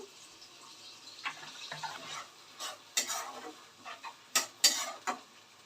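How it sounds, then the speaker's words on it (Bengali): Ginger paste and chilli powder masala being stirred in a pan for chickpea masala, with irregular spoon scrapes and clacks over a soft sizzle, close by and with no talking. "আদা বাটা দিয়ে দিচ্ছি 2 চামচ। নেড়ে নিয়ে মশলাটা কষে নিতে হবে।"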